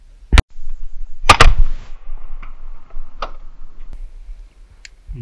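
Shotgun shots fired while duck hunting in North Florida swamp waters: two sharp, loud blasts close together near the start, followed by fainter trailing echoes and small clicks.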